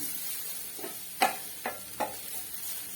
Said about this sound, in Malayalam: ഇളക്കി അതിൻ്റെ പച്ചച്ചുവ ഇടുന്നത് വരെ നല്ലതുപോലെ ഒന്ന് ഫ്രൈ ആക്കുക